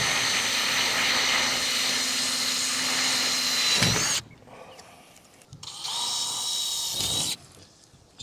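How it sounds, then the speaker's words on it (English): A power riveting tool drives rivets through a composite roof panel on a 1975 Viscount caravan, loud close bursts of whirring separated by short quiet gaps. "Just riveting along the leading edge of this last sheet."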